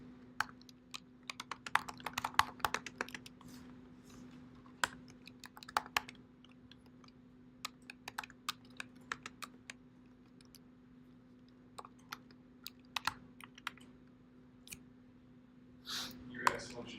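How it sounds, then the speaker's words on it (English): Someone types on a computer keyboard while coding bar charts with D3, with scattered bursts of light clicks and keystrokes over a steady low hum, and occasional quiet talk. "I'm actually looking on my screen at what I'm typing"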